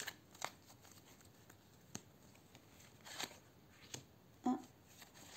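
Playing cards shuffled by hand for a tarot-style political prediction draw, heard as a few soft, quiet riffling and snapping bursts spread across a hushed room, with no talking.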